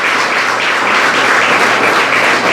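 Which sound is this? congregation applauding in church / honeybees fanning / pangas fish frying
congregation applauding in church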